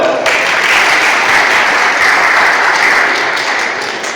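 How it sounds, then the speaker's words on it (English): A classroom audience of students claps for a classmate after a set theory answer, loud sustained applause lasting several seconds with no talking. "Let's clap hands for her."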